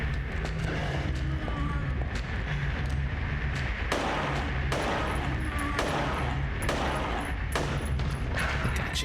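Rapid bursts of gunfire from a firearm in the survival horror game Silent Hill 3, loud, close and repeated in quick volleys, with game sounds underneath.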